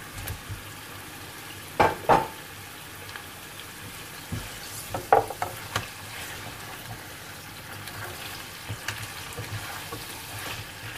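Half-cooked lamb chops going into a pan of cumin-scented oil, giving a steady close sizzle and frying hiss with a couple of sharp clatters and stirring scrapes, no talking.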